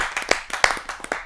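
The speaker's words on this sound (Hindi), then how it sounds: "एक जोरदार तालियों से।" A few people in a poetry gathering clap to welcome a poet, sparse uneven claps landing close and crisp rather than a full crowd ovation.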